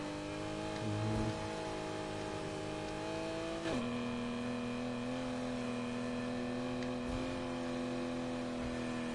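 A video game car's engine revs steadily through a drift, the throttle held so the pitch dips sharply once and then holds a sustained, loud drone with no talk.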